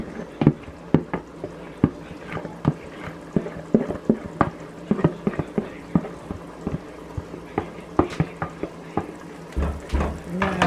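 Meat goes into a pan with zucchini-seed (courge) ball mixture and is stirred, giving steady scraping, clattering utensil strokes over a faint sizzle, close and moderately loud with no talk.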